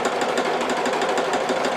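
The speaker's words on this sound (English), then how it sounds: "Little back stitch there to hold" A sewing machine running a quick back stitch through purse lining fabric, a fast even rattle of needle strokes that carries on steadily for under two seconds, close and fairly loud.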